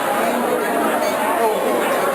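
Crowd chatter from a community gathering in Clayton County, a steady mass of overlapping voices at moderate level with no single speaker standing out.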